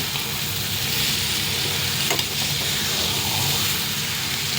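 Chilli chicken fries in a pan with a dense, steady sizzle that stays loud and even throughout, plus a brief scrape of stirring near the middle.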